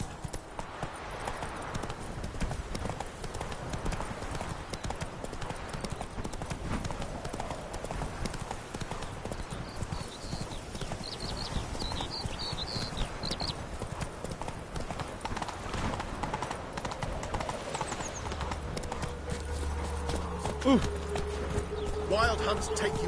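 In The Witcher 3, the horse Roach gallops with steady, rhythmic clip-clop hoofbeats throughout, set within continuous game ambience and other noise, with a voice occasionally heard.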